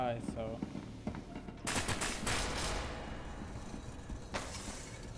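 Rapid automatic gunfire bursts from the video game SCP: Secret Laboratory crackle loudly in the middle, preceded by a short pause with a few scattered shots, then a final sharp burst near the end.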